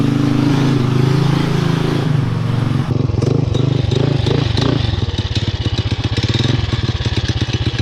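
A Trail Master MB200 mini bike with upgraded medium-gauge shocks runs loud and close, its small engine chugging steadily, then revving into a rapid, rattling putter as it pulls away, with wind buffeting throughout.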